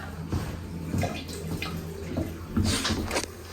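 Water drains out of a cabin shower line while the lines are blown out with air, a gurgling, splashing flow with spurts and drips, close by and fairly loud.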